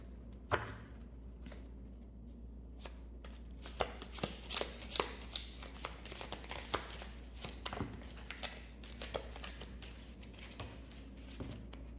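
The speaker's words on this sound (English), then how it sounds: "Let's do another shuffle here." Tarot cards riffle and snap in quick, uneven bursts close to the listener, a crisp fluttering shuffle over a low steady hum with no talking.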